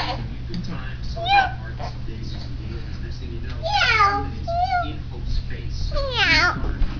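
A young child imitates a cat, giving several drawn-out, rising and falling meows, loud and close, with other speech around them.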